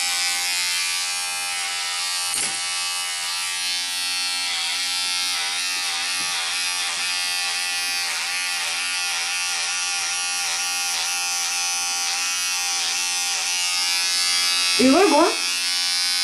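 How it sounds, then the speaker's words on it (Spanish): Electric clippers buzz steadily and close while shaving a toy poodle's tail, a constant high whir running throughout under a voice speaking Spanish. "Pues vais aguantando los pelos aquí y estamos afeitando la cola"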